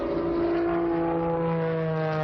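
An Extra 300S aerobatic propeller airplane drones steadily overhead, a loud continuous engine and prop tone with stable pitch and no voices.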